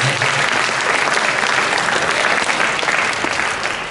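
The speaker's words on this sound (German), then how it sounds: "Vielen Dank und großen Applaus für die Sieger der Altersklasse 1." A close, loud burst of continuous applause rises from the audience at a youth Future Cup prize presentation as the age group 1 winners are honoured, steady from start to finish.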